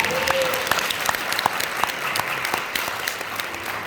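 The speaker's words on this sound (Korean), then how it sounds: "이 대목에서 박수 한번 주시면" An audience applauds steadily through a business seminar on a network marketing company, dense clapping filling the room with a few brief louder claps standing out; no speech.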